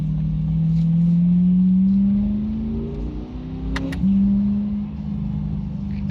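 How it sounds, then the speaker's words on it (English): Chevrolet C8 Corvette with a Milltek exhaust in manual mode, a steady loud engine drone rising in pitch with a sharp pop and shift break near the end, heard from inside the cabin. "The manual mode's when you hear those pops and upshifts."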